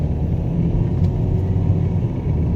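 A 2016-2019 Chevy Cruze engine hums steadily at low pitch while the car drives slowly, a constant near rumble of motor and road noise with no talking.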